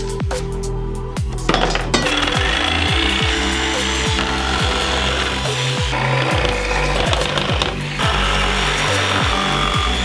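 A power tool cuts the front of a homemade shield into flat sides, a loud continuous grinding whine with repeated rhythmic clanking strokes close by, no talking.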